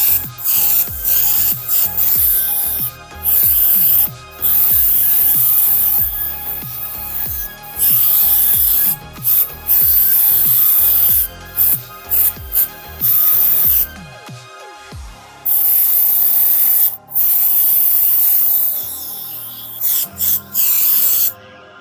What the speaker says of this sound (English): I got my airbrush hooked up now. I'm gonna go ahead and start spraying.